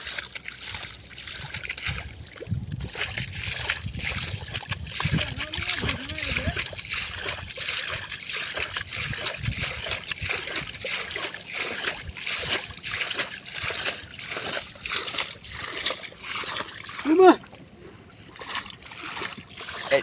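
Water being bailed out of a pond by hand, with repeated splashes and sloshing close by, a louder splash near the end, while people talk over it.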